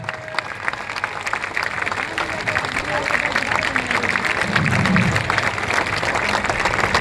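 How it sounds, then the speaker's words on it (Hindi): Large crowd applauding at a political rally in India, a steady, loud wash of clapping sustained throughout, with a voice audible over it. "जोर से ताली बजाइए।"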